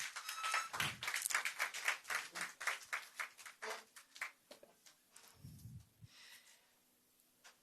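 Scattered applause at a governor's meet-the-official event: a small audience claps unevenly for a few seconds and then thins out to a few faint claps.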